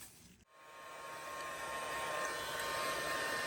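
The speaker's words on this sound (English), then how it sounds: "I'll use the heat gun on this too a little bit, just to get some heat down in there" A heat gun blows a steady, loud hiss of hot air onto the carburetor slide of a 1979 Honda Twinstar motorcycle, starting abruptly after a short pause and holding constant.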